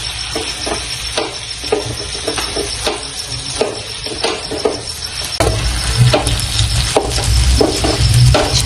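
Okra sizzles steadily in a hot pan as it is stir-fried with crushed peanuts, with repeated scraping and clinking stir strokes; the frying grows louder and fuller partway through.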